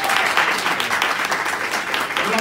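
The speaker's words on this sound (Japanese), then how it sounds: "大きな拍手をお願いします。" Audience applause at a live event in a Shinsaibashi, Osaka bar, a busy, steady clatter of many hands clapping close by throughout, with no talk over it.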